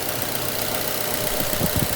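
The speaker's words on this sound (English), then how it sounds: "it does come with a 4-cylinder, naturally aspirated 2-liter Mazda engine" 2007 Mazda Atenza with a naturally aspirated 2.0-litre four-cylinder, chain-driven engine idling steadily, a low, even mechanical hum with faint ticking, moderately close and alone.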